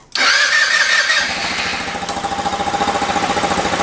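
A GY6 engine in a Honda Ruckus scooter starts with a sharp catch, then settles into a steady, loud, pulsing idle close by.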